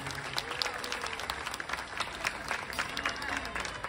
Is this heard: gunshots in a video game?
no